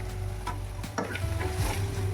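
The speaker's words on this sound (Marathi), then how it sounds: "हळदला थोडासा मिक्स करत आहे ताई" Turmeric stirred into tomatoes in a frying pan for egg bhurji, with soft scraping strokes over a steady sizzle, close and fairly quiet, no voices.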